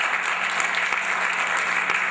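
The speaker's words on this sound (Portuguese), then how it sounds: "queria pedir uma salva de palmas à professora Ruth também" An audience at a Brazilian conference on Paralympic sport and social inclusion applauds Professor Ruth, a steady, even burst of clapping throughout the short stretch.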